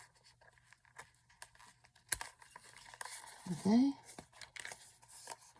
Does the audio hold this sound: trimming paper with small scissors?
yes